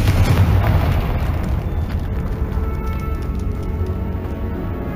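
A Confringo fire spell explodes in the Hogwarts Legacy video game, giving a loud, dense low boom at the start that fades into a sustained rumbling roar.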